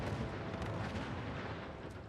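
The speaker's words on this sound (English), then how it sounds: "I was too close to the explosion," A huge explosion in the game Fallout 4 rumbles as a dense, loud roar that fills the whole stretch and fades only slightly, with no voices over it.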